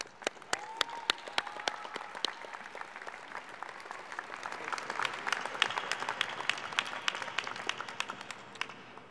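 A graduation audience applauds at a 2014 Heinz College diploma ceremony, a steady patter of many hands clapping close and continuous for the full length, with no talk over it.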